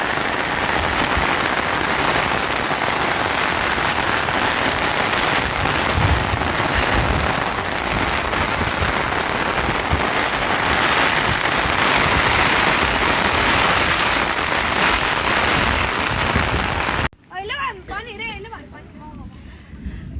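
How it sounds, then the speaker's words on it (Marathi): Heavy rain pours steadily in a dense, loud roar for most of the clip, then cuts off abruptly as a voice begins speaking near the end. "आमच्याकडे तर आता भरपूर पाऊस झालेला आहे"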